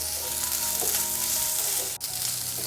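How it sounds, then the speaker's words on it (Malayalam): Ginger, garlic and onions sautéing in a pan for an okra curry, a loud, continuous sizzle and crackle of frying, with a brief dip from stirring and no voices. "ഇഞ്ചിയും വെളുത്തുള്ളിയെല്ലാം ചേർത്ത് കൊടുത്തതിന് ശേഷം നന്നായിട്ട് ഇതുപോലെ ഒന്ന് വഴറ്റി"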